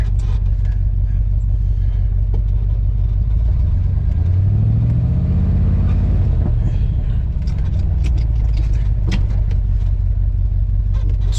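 A car engine revs to free the car after rolling back, a heavy low rumble climbing in pitch midway and easing off again, close and steady with faint clatter.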